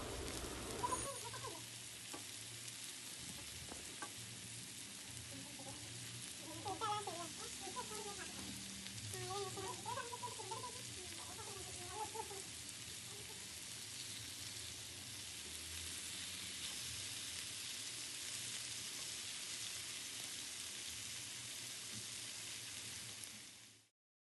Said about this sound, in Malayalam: മീഡിയം ഫ്ലെയിമിലിട്ടിട്ട് നമുക്കിത് ഫ്രൈ ചെയ്തെടുക്കാം